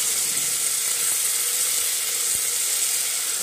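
Garlic-ginger paste and tomatoes frying in a pan, a loud, even close-up sizzle that holds steady throughout, with a couple of faint clicks and no talking.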